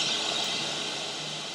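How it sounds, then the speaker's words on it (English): Pink noise from a Max for Live noise generator plugin, a steady, even broadband rush that plays alone at constant loudness without any change or pause. "Pink noise."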